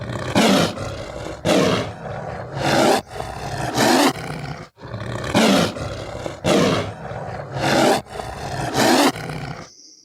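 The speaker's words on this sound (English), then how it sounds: "So yeah, if you need some tigers yelling at you, that's the way to do it." Tiger roars made with the Krotos Dehumaniser 2 voice-processing plugin, sounding about eight times in a steady rhythm. Each roar is loud, close and growling, with brief gaps between them and no voices.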